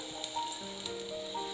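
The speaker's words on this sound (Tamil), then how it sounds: "அதில் எண்ணெய் ஓரளவுக்கு சூடானதும் 1/2 கப்பு கேப்சிகமா அதில் சேர்த்துக்கலாம்." Half a cup of capsicum frying in hot oil in a pan for pav bhaji, a faint, steady sizzle with a few small crackles, close and quiet, with no voices.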